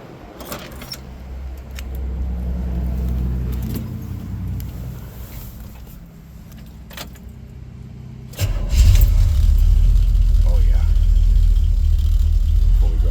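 A 1958 Chevrolet Impala engine cranks and catches at about eight seconds, then settles into a loud, steady idle; a softer mechanical hum and light rustling come before it.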